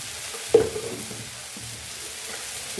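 Taro greens with prawns fry in a pan. A single sharp clink of the stirring spatula lands early, then a soft, steady sizzle continues quietly.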